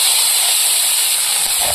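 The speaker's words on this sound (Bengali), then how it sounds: "এবার কাঁকড়াগুলো ভেজে নেব।" River crabs frying in hot oil in a pan send up a loud, steady, close sizzle with a bright hiss that does not let up, and no voice is heard.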